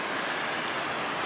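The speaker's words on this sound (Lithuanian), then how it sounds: "Čiurlena vanduo vienoj pusėje, antroj pusėje." Water babbles through the streams of Barcelona's Olympic park as a steady, dense rushing wash, close and continuous with no pauses.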